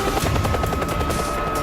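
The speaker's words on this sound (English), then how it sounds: "The helicopter arrives right on time and signals the start of the test." A helicopter flies overhead at a test site, its rotor beating in a fast, loud, steady chop that fills the short stretch with no talk.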